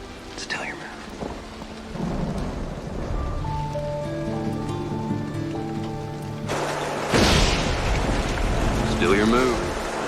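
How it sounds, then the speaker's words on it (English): Rain falls outside a Wild West barn during a worsening storm, a steady broadband wash under sustained music, with a louder burst near the end like a thunderclap or heavy gust. "It's raining outside."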